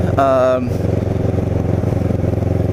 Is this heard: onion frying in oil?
no